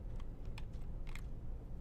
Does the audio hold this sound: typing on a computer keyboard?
yes